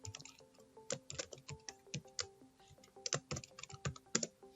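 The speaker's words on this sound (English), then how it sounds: "So I'm just going to type him in." Typing on a computer keyboard while entering code, with irregular bursts of crisp key clicks and taps at close range, fairly quiet, with no talking.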